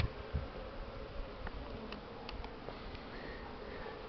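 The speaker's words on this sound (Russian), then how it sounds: "На крышу кидаешь пчел, они потом отогреваются." Honey bees fly about during their spring cleansing flight, a continuous buzzing swarm with individual insects passing close now and then.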